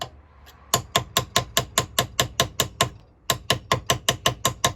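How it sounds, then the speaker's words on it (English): Gentle, regular taps on a small King Dick tool ring out close and crisp, a rapid even series of about a dozen strikes, a brief pause, then another steady run. "Just little gentle taps."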